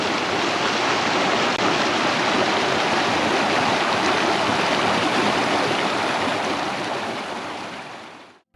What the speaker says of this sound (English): small creeks like this with real rushing water